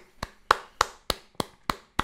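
A presenter claps alone in a steady rhythm, about seven sharp, close hand claps spaced evenly over two seconds with quiet gaps between them.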